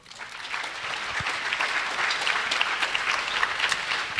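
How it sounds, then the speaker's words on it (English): A room of parents at a freshman parent meeting applauding the school leader, Dr. Eccles; clapping swells in quickly and holds as a steady, moderately loud patter of many hands. "how about a round of applause for our fearless leader,"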